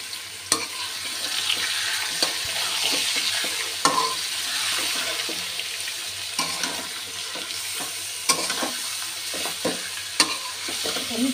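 Marinated chicken coated in turmeric, chili, coriander, cumin and ginger-garlic paste sizzles as it is stir-fried, with steady frying under repeated scraping strokes and clacks of the stirring spoon. Nobody talks.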